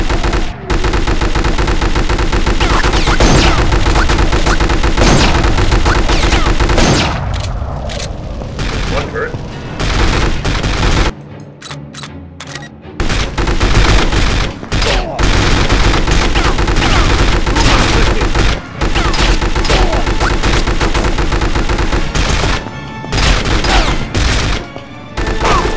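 Bazooka blasts and heavy gunfire in the video game From Russia With Love, with dense bursts of shots and booms running almost nonstop, a player's voice speaking over the combat now and then.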